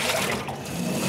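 Water rinses down the inside of a Wagner fence and decking sprayer's smooth machined reservoir, a continuous close splashing wash that dips briefly mid-stream.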